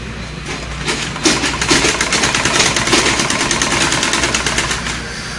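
A sewing machine stitching fabric skirt pieces runs with a steady, loud, continuous whirr that barely changes in rhythm for several seconds. No voices can be heard.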